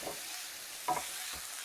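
Beef burgers and sausages frying in a pan, a quiet steady hiss with one brief scraping stir in the middle and a soft knock near the end.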